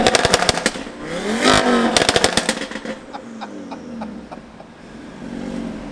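A car engine with a cracked-open performance exhaust revs hard in a garage, throwing sharp rapid crackles and pops like gunfire in bursts, then settling to a rougher idle with lighter popping; the sound is loud and close.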